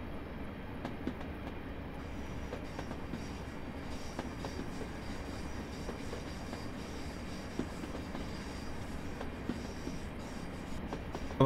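British Rail Class 205 Cornish Thumper diesel train running on a rarely used line, a steady rolling rumble with faint rhythmic wheel clicks over the rail joints, moderately close and heard without talk.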